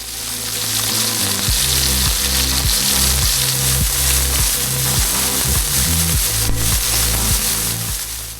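Ribeye steaks sear on a Blackstone griddle with a loud, constant sizzle and crackle, close by, overlaid by a repeating low rhythmic clunking, with no talk.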